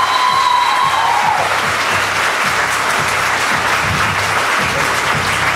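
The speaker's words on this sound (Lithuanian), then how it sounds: "Tai plojimai trečiokams." A school hall audience at a hundred-days-before-graduation celebration bursts into sustained applause for third-year students, dense clapping filling the room steadily throughout, with a brief tone at the start.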